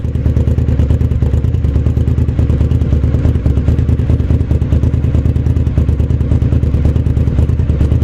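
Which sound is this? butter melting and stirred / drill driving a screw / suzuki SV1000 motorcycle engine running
suzuki SV1000 motorcycle engine running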